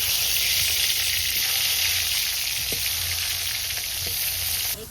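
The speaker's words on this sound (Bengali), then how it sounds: "এখন আমি বেগুন ভেজে নেওয়ার জন্য তেল দিয়ে দিচ্ছি।" Oil heating in a pan before eggplant goes in, a loud continuous hiss and crackle that holds steady, with a faint knock or two and the sizzle brightening at the very end, no voices.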